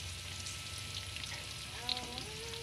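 Banana blossom deep-frying in oil over a wood fire, a steady bubbling sizzle with soft crackles, close and moderately loud, with a brief faint tonal sound near the end and no speech.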